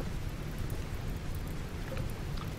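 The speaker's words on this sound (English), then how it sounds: "And it starts raining." Steady rain falls in the video game Rimworld, a dense, even hiss that holds at the same level throughout with no voices over it.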